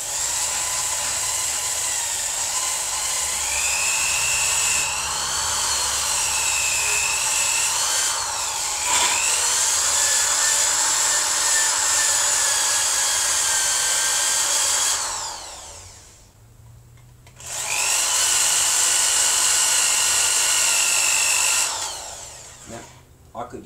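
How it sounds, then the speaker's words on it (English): An electric drill whines steadily while porting and polishing Jeep WJ cylinder heads, a loud close-up high-pitched grind that rises and dips with load, stops briefly, then resumes before cutting off. "So I'm using old-fashioned drill."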